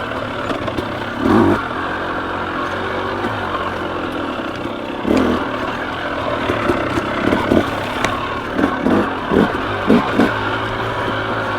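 A KTM 300 XC dirt bike rides slow single track, its engine buzzing steadily nearby with repeated sharp revs and throttle blips, wind and rustle mixed in.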